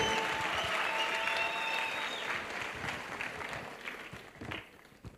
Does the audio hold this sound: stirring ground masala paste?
no